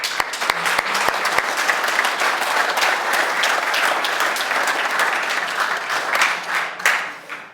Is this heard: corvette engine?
no